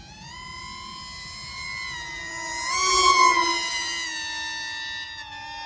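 An RC VTOL F-35 parkjet makes a speed pass, its electric motor giving a steady high-pitched whine that rises and swells as it passes near at mid-clip, then settles back to a fainter tone.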